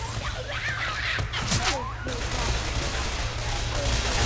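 Gunfire in the Left 4 Dead 2 video game, a few sharp shots and short bursts popping over a dense background din, with a voice briefly speaking amid the action.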